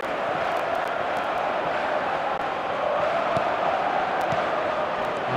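Simulated stadium crowd from a football video game, a continuous dense murmur and roar of many voices with occasional shouts, steady and fairly loud throughout.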